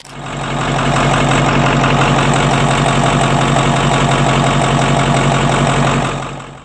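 Detroit Diesel 8.2-liter four-stroke V8 diesel, the lightweight 'fuel pincher' from the 1980s, idling loud and close with a steady rough clatter and knock, alone and continuous throughout.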